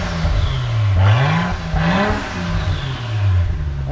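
A Toyota JZX90 with the rear exhaust section removed revs up and back down several times, a loud, close, raw engine note rising and falling in pitch.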